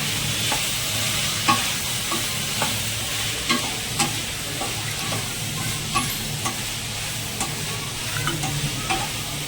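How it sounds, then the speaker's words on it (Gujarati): Ginger, garlic and chili paste fries in hot oil for khichdi, with a steady close sizzle and regular scraping strokes of a spoon stirring the pan. "હવે જો દોસ્તો આપણે આદુ લસણ મરસાનો પેસ્ટ નાખી દઈએ હવે આને બરાબર શેકી લેવાનું છે"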